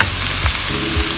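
Mutton keema mince frying with browned onions, a loud close sizzle with a couple of low thuds from stirring, brief and voiceless.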